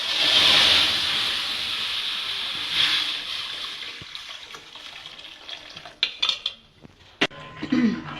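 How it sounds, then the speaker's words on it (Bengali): Milk pours into a kitchen wok for making chushi payesh, a steady liquid rush and hiss for a few seconds. Sparse clinks of utensils and metal follow as it settles. "কড়াইতে আমি দুধ দিয়ে দিয়েছি।"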